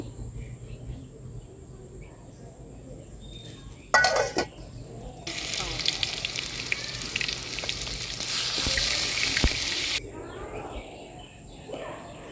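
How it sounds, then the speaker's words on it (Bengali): Fish frying in a pan in a home kitchen, a soft background sizzle that swells into a loud, dense frying hiss midway with a clattering utensil bump, then drops back, with faint birds or insects around. "মাছগুলো আমার ভাজা হয়ে গেলে আমি এখন উঠিয়ে নিচ্ছিলাম"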